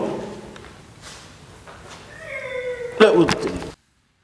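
Strange whimpering cries like a dog in distress, a thin, wavering whine rising near the end before a sharp louder burst, then abrupt silence.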